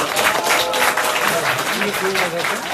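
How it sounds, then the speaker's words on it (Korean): Broad, steady applause from a crowd at a Korean election campaign rally fills the whole stretch, dense and sustained, with faint voices mixed in underneath. "큰 박수로 부탁드리겠습니다"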